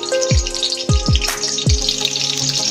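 Pieces of pointed gourd drop one at a time into hot oil, each landing with a splash and a low plop over a continuous bright sizzle, four drops in quick succession.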